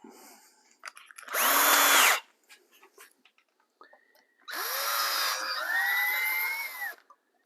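A power drill runs in two bursts, each boring holes for threaded inserts in easily worked material for a motorized router lift: a short high whine, a pause with small handling clicks, then a longer whirring run.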